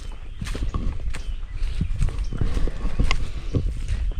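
A herd of water buffalo plods over rocky ground, hooves knocking irregularly against stone, close and steady throughout with no talk.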